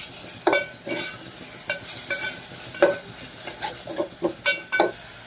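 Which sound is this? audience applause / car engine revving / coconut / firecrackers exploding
coconut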